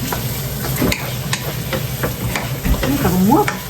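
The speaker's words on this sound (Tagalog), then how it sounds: "Para gisahin natin mabuti. Para maluto siya." Garlic and onion sauté in a pan for chicken lomi, with a steady close sizzle and the scrape and clatter of stirring throughout.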